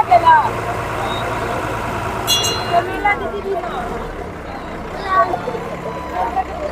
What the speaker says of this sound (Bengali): বন্ধুরা সময় মতো আমাদের লঞ্চ ছেড়লো বেনুবনের উদ্দেশ্যে